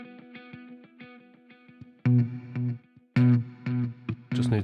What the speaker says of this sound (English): With the option to stick some reverb on.